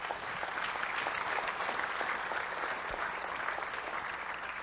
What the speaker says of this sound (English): Give these people a big round of applause